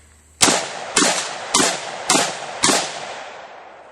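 Five sharp gunshots from a firearm in a shooting follow-through demonstration, loud and close, spaced about half a second apart, each with a short ringing decay and no talk over them.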